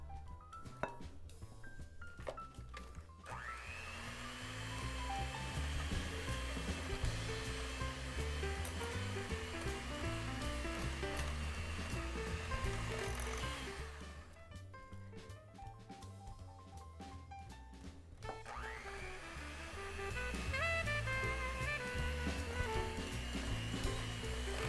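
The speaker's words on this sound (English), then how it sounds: "Now it's time to mix the flour and spices in." An electric mixer blends flour and spices into ginger cookie dough, a steady motor whir with a changing tone that stops briefly midway and then starts again.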